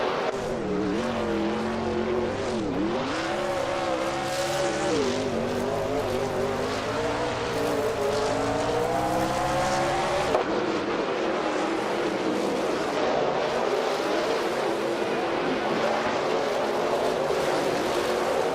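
Race car engines roar steadily in a racing video game as several cars jostle and overtake, continuous high-revving whine with rising and falling pitch sweeps as cars pass, loud and unbroken throughout.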